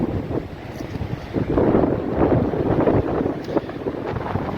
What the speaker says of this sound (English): Just get out the wind.